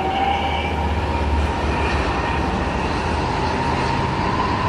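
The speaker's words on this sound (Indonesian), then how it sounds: "kereta lokal ini ya sedikit mengalami keterlambatan" A local train rolls past close by, a steady rumbling roar with a high whining tone and wheel noise, no voices.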